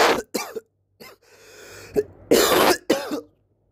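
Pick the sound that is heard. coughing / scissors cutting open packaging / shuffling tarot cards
coughing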